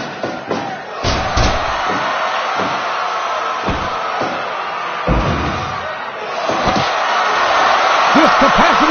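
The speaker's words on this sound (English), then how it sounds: "This capacity crowd is making their opinions known tonight." A large capacity crowd at a wrestling arena roars and shouts steadily throughout, with sharp slams and thuds cutting through the noise now and then.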